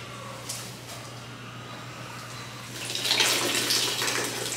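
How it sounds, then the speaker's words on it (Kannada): Water is poured into a bowl for soaking during home cooking. The rushing splash starts about three seconds in, over a steady low hum, and stays moderately loud and close. "ನೀರು ನೀರೆಲ್ಲ ಹಾಕ್ತೇವೆ."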